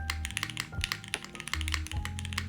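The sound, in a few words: mechanical keyboard typing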